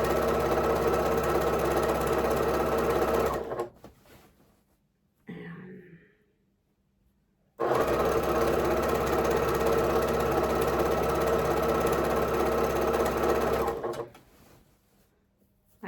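A scrappy quilt being stitched on a sewing machine: two long, close runs of fast, even whirring, split by a quiet pause with a brief soft noise, ending in a short stop.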